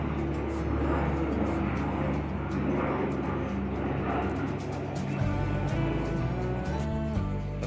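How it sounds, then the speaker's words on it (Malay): An airplane passes over a park at Taman Mini, making a steady, full-bodied engine roar with a droning tonal hum whose pitch shifts slightly near the end. Faint background activity is also audible. "Ada pesawat lewat bosku."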